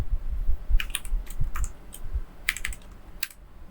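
Fingers typing on a computer keyboard, quick irregular bursts of crisp key clicks close by, pausing briefly between short runs.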